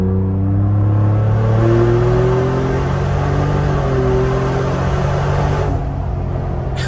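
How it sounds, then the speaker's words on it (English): A turbocharged, tuned Ford Bronco Wildtrak running E30 fuel revs hard under acceleration, its dumped exhaust droning loud and close with rising tones, then easing off near the end. "And I like the exhaust on this thing dumped."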